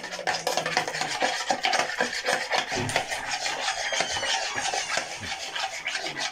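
A spoon or spatula stirs a ready-made cake mix with vanilla and a splash of vinegar in a bowl, giving a steady, close scraping and rasping that continues without pause.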